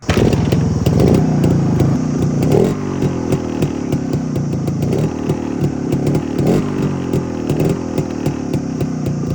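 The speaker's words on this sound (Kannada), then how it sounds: "ಒಂದು ರೇರ್ ಗಾಡಿ ಕಾಣಿಸ್ತು S D one seventy five C B points ಅಂತ" A rare Yezdi 175cc motorcycle with a contact-breaker points ignition runs steadily up close, its single-cylinder engine putting out a loud, even, slightly clattering beat with a brief rev near the start.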